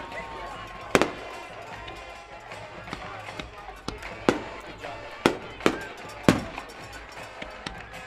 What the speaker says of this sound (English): Gotta love you some fireworks tonight after you win a championship too.